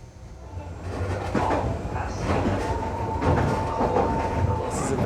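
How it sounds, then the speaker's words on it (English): Japan's narrowest train running along its line, heard from inside as a steady rumbling roll with rail clatter and brief knocks, rising a little in loudness. "Very rapid train."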